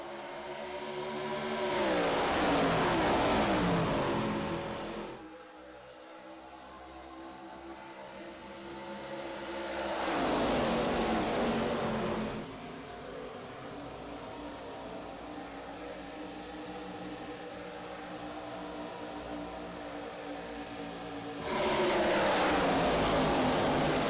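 Race cars on a green flag restart at Michigan International Speedway roar past in three loud waves, each engine note swelling and fading as the pack sweeps by, with a quieter steady drone between passes.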